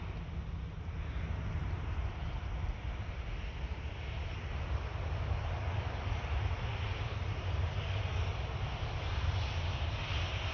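A Boeing 737-800 taxiing towards the runway at Orly airport, a steady low engine rumble and whine heard from a distance, fairly faint, with wind noise over the microphone.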